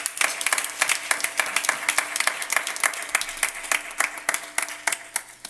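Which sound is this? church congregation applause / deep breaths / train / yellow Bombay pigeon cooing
church congregation applause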